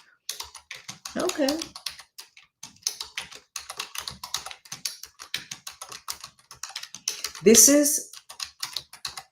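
Typing on a computer keyboard while filling in a chat window: quick, close key clicks in an uneven rhythm throughout, with a voice speaking briefly near the start and again near the end.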